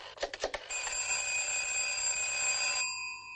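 A telephone rings with a bright, sustained electric bell tone for about two seconds, preceded by a few short clattering knocks, loud and close with no talking.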